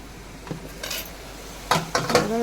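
Onion and tomato sautéed in a pan while preparing prawn biryani, heard as a few close metallic scrapes and clinks of a utensil against the pan over a low background hiss.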